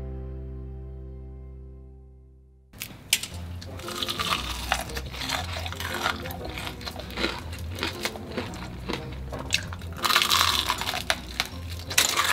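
Korean fried chicken is bitten and chewed up close, with loud, crisp, crackling crunches repeating for several seconds after a sustained musical tone fades out.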